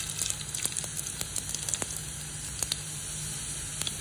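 Mustard seeds and urad dal sizzle in hot coconut oil in a kadai, a steady close hiss broken by scattered sharp pops and crackles, with no voices.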